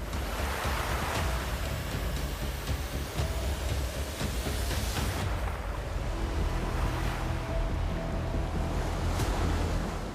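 Sea waves crash and surge continuously around a small boat on open water near an island off Dwarka, with steady wind rumbling across the microphone throughout and no talking.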